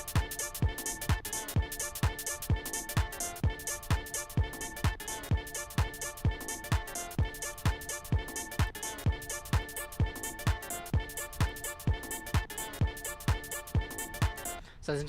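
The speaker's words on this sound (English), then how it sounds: "So if you add the open hi-hat in between these" A steady drum loop with crisp hi-hats ticking in a shuffled pattern, open hats sizzling between closed ones over regular kick hits, continuous throughout.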